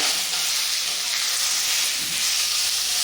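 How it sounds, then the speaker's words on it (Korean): Beef frying in perilla oil in a pot gives a steady, loud sizzle with a hissing texture throughout and a brief stir partway through. "들기름을 냄비에다 이렇게 두르고요. 소고기를 넣습니다."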